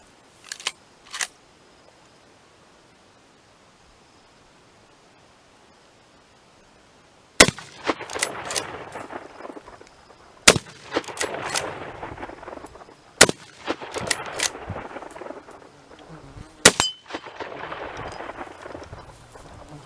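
A Winchester 1895 Flatside lever-action rifle chambered in .303 British fires several sharp, loud shots spaced a few seconds apart, each followed by rattling lever cycling and outdoor echo, after a couple of faint early clicks and a quiet stretch.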